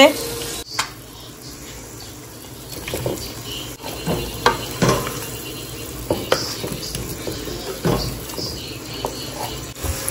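Tomato and onion being sautéed in a pan sizzle steadily while a utensil stirs and scrapes in irregular strokes, close and moderately loud, with no talking.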